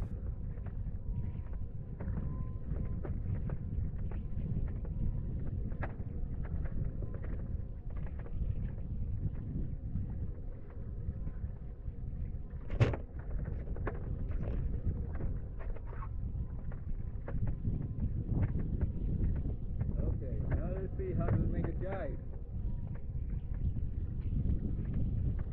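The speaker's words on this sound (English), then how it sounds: "Oh, now it's a bit too windy now." Strong wind roars steadily across the microphone while wing foiling on a lake with a Duotone Ventis 8 m² wing, a loud, continuous rush with gusty swells and no talking.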